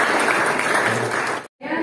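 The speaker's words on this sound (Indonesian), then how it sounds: "kita berikan tepuk tangan dulu" A school audience gives a round of applause during a student entrepreneurship session, dense clapping that cuts off abruptly, then briefly resumes.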